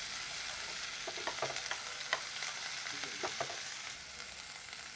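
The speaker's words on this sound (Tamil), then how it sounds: "இதுக்குள்ள ஒரு கொஞ்சம் பெருஞ்சீரகத்தையும் போடுவோம். பெருஞ்சீரகம் நல்லா வதங்கட்டும்." Fennel seeds sizzle in hot oil with green chillies while tempering Jaffna-style potato milk sodhi, a steady close hiss broken by soft stirring scrapes, with no talking.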